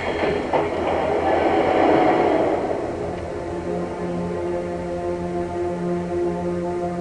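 Metro train running through an underground station, a loud rumbling rush that swells then settles into a steady rolling hum with faint rail clatter.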